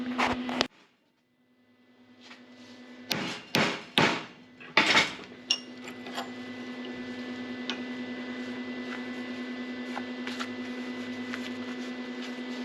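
A metal steering bracket for a rat rod is hammered into a 90-degree bend: a cluster of sharp, loud ringing blows comes after a short pause, then a steady mechanical hum runs with faint ticks.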